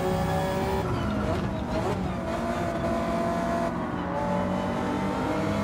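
Race cars in Gran Turismo 7 charging through the field, several loud engines revving and shifting close by with rising and falling pitch, plus brief tire squeal, continuous throughout.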